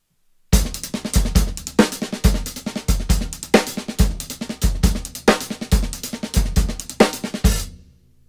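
A drum kit plays a steady groove of hi-hat, snare and bass drum with accented strokes, close and loud for about seven seconds before ringing off.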